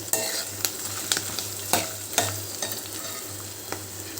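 Curry leaves and mint chutney ingredients fry over a low-to-medium flame, a steady sizzle broken by several sharp scraping stirs of a spatula at irregular intervals, close and moderately loud with no talking.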